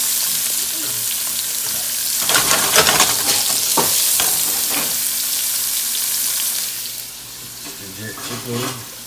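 Chicken sautéing for Jamaican jerk chicken rasta pasta, with a steady loud sizzle and frying hiss in the pan and stirring scrapes and clatter partway through, no talking.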